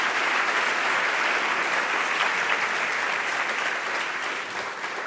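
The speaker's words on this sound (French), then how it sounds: "on vous applaudit, Fabienne." Dense, sustained applause from a large audience at a business awards evening, the Nuit de l'Entreprise Positive 2019, honouring the Orange France executive; loud and even throughout with no voices over it.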